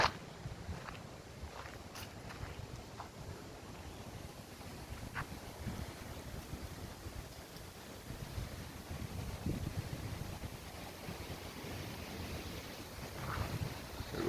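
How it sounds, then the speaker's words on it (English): Gusts from tropical storm Zeta buffet the microphone outdoors as a low, rumbling roar that swells and eases over several seconds, fairly faint, with a few light knocks and no speech. "There go that wind, y'all."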